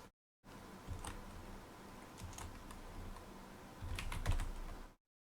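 Typing on a computer keyboard for a Commodore 64 BASIC programming session, a steady patter of quiet key clicks with a denser burst of strokes near the end, close and alone without speech.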